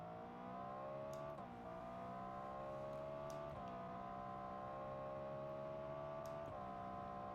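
Racing car engine in a sim racing game, a steady loud harmonic drone with shifting pitch as it revs, dipping briefly around gear changes and braking, continuous with no talk.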